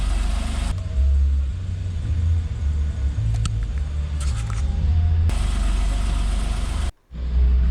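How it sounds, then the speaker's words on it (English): A Porsche 911 (991) engine idles steadily while warming up, a close, continuous low rumble with a faint brief lift in revs midway and a short dip near the end. "You'll need to warm up the engine."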